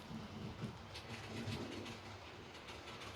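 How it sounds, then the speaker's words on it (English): A model railway train, a BR Standard Class 3 tank steam locomotive with three coaches, rumbles steadily along the track with a low, continuous clatter, fairly close and moderately loud throughout. "So the next arrival is a train coming from"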